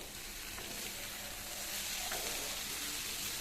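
Vegetables for a kachki fish chorchori cook in a covered-then-uncovered pan, a faint, steady sizzle with a soft scrape or two of stirring.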